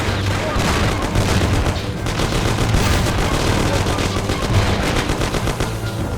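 Loud gunfire from the video game Mafia: The City of Lost Heaven, with dense, continuous machine-gun bursts and shots blending into a sustained barrage during a shootout.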